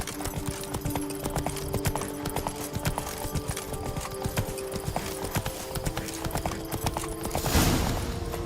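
Roach, Geralt's horse in The Witcher 3: Blood and Wine, trots with clear, rhythmic clip-clop hooves up close, ending in a short burst of louder noise near the end.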